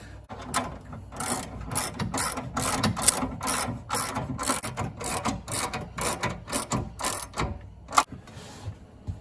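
Ratchet wrench clicking in quick bursts while tightening bolts during installation of a heater in an MG TF, close and fairly loud with short pauses between strokes.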